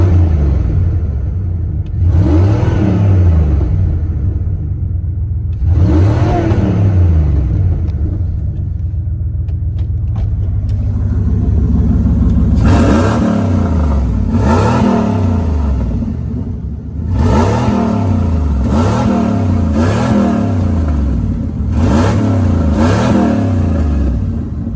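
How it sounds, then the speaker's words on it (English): A Dodge Ram pickup truck engine with most of its exhaust missing, revved repeatedly while parked: deep rumbling idle broken by several sharp rising revs, loud and close, with quicker bursts of throttle in the latter half. "let's do some revs, because this truck does sound nice"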